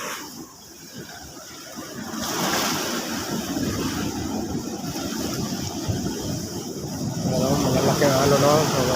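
Ocean waves surge and crash against rocks near a shore hut on a rough-sea day, a churning wash of surf and wind building louder toward the end, with a person talking over it.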